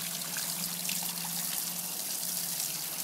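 Water drips and trickles from magic water balls, a close wet trickle with faint low drops over a steady hiss, with no talk.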